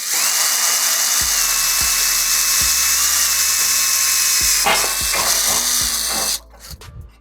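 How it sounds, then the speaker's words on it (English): A power drill whines steadily at high pitch with a few short clicks, then cuts off near the end, followed by brief knocking and handling noises. "Now with a new drill, let's see how this works better."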